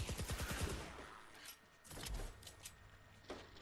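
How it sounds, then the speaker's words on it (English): Rapid automatic fire from the Ratatat machine pistol in Fortnite Save the World, a quick burst of closely spaced shots followed by a pause and a couple of further short bursts, loud and near. "It's an automatic pistol"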